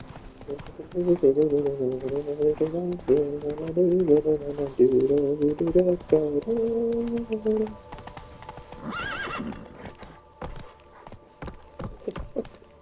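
Roach, the horse in The Witcher 3, clip-clops in a steady hoof rhythm, then gives a loud, drawn-out neigh partway through, followed by softer scattered sounds while someone talks at times.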